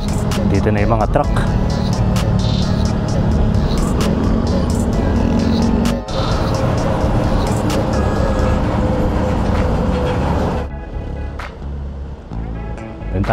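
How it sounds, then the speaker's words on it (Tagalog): Traffic roars steadily around a Fazzio 125 scooter riding toward Marikina and the Marcos Highway, with trucks close by; the noise stays loud and constant, then drops sharply near the end, and a voice talks over it. "Dito na yung mga truck."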